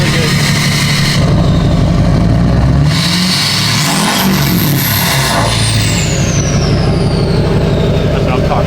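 A Chevrolet Silverado truck with a 6.2L engine and a 4-inch axle-dump exhaust roars loudly nearby, revving up and down in long, rising and falling pulls, with people talking over the noise.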